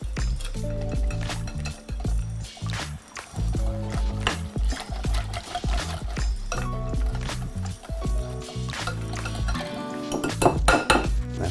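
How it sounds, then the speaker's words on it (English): A whisk clatters quickly against the side of a bowl of batter for Korean fried chicken, in a continuous rattling, scraping rhythm, loud and close, with no voices. "I'm gonna whisk all of the lumps out of this. I want a smooth batter."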